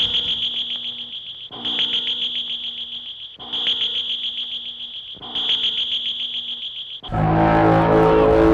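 Alien sound from the 1953 War of the Worlds film: a shrill pulsing electronic warble repeating in four even bursts of about two seconds each, loud and alone, followed by a sudden dense burst of noise.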